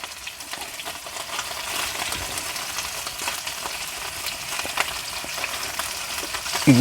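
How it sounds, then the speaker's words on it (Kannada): Marinated mackerel pieces coated in semolina fry in a pan, making a constant, close crackling sizzle with small pops and no talking, ending in a slightly louder clatter. "ಈಗ ರವೆ ಹಚ್ಚಿ ಒಂದೊಂದು ಫಿಶ್ ಹಾಕೋರೋಣ್ರಿ ಫ್ರೈ ಮಾಡ್ಕೊರಕ್ಕೆ."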